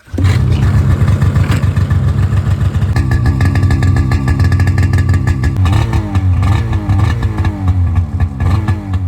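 An 850 snowmobile engine with an aftermarket exhaust revs hard and repeatedly, its pitch sweeping up and falling back, with a throaty, rumbling exhaust tone close by.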